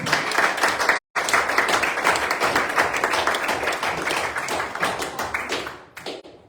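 Round of applause at a city commission meeting in Mulberry, dense clapping from a roomful of people, briefly cut off near the start, then continuing steadily before tapering away at the end.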